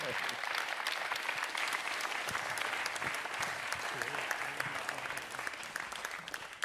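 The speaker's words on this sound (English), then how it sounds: "Big round of applause for Chris and Ian." Steady applause from a concert audience after a percussion performance fills the whole stretch, dense clapping at an even level with a faint voice underneath.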